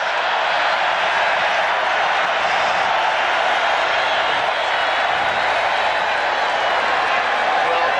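A college football stadium crowd at a 1991 Houston at Texas A&M game roars in a loud, unbroken wall of noise, constant from start to finish.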